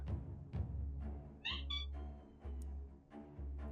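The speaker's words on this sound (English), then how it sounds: "Let me get some cat noises in this LP." A pet cat meows a couple of times in the background behind steady, low game music, the short cries faint but distinct.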